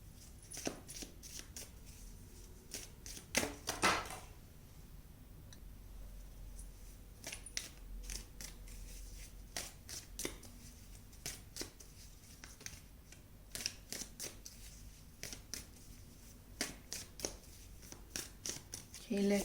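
A deck of cards being shuffled and drawn during a tarot-style reading, soft intermittent riffles and flicks close by, with someone talking over them.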